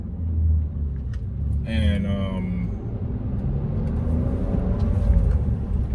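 A BMW E39 530 drives along with a low, steady engine and road rumble throughout, while someone talks over it.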